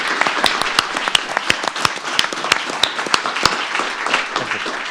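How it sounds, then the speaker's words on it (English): Applause for the Prime Minister at a corporate governance conference, a small audience clapping with sharp, distinct hand claps over a steady patter, close and moderately loud for several seconds. "Applause to our Prime Minister"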